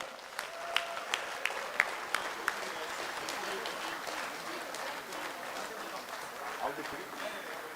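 Audience applause at an alumni convention, a dense steady wash of many hands clapping from a crowd, with a few louder nearby claps standing out early on.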